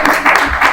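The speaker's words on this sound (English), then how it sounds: "So a bigger round of applause for yourself." Audience applause at a ceremony attended by a permanent secretary and directors, a steady dense wash of clapping from a crowd filling the whole brief moment without a break.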